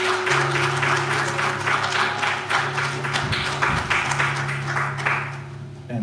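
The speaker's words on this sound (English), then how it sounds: "Let's give God another round of applause and thank him." A church congregation claps steadily in a dense patter, with a low hum underneath and a few voices mixed in.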